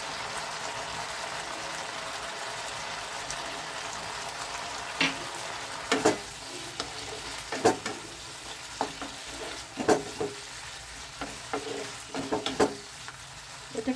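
Flat beans with soaked mustard paste cook in a pan, giving a steady low sizzle broken by repeated scraping stirs of a spatula that grow more frequent later on.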